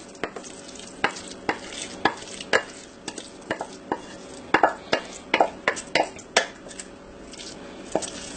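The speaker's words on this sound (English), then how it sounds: "I'm going to add our roux and our vegetables to the top" Spoon scraping and clanking against a gumbo pot as roux and vegetables are stirred in, sharp irregular knocks over a steady sizzle, close and fairly loud.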